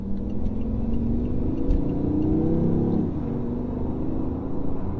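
A BMW i8 three-cylinder hybrid pulls away under light throttle, a steady mid-pitched engine whir and hum rising smoothly in pitch with road rumble, close and moderately loud, no voices.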